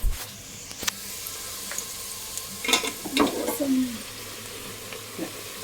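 Fish frying in hot oil gives a soft sizzle under clattering utensil knocks and scrapes, with a brief voice in the background.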